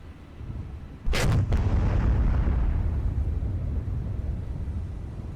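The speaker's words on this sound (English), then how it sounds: "I don't think 8-inch guns are this loud" Heavy 8-inch naval guns firing in the War on the Sea naval combat game, a sudden loud close boom with a brief double crack, followed by a long rumbling roll that slowly fades.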